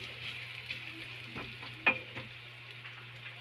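Onions added to a pan for a spicy shrimp dish give a soft, steady sizzle with a few sharp stirring clicks. The sound is quiet and close, with no talking.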